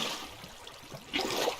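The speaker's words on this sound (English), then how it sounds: "And I've got some extra water here." Minecraft water flowing in a steady rushing trickle that swells near the end, continuous and moderately loud with no voices over it.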